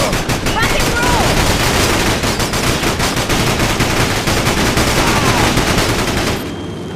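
Sustained heavy gunfire from a firefight in the video game Battalion Wars, dense rapid machine-gun bursts and overlapping shots filling nearly seven seconds at high loudness before dropping off abruptly at the end.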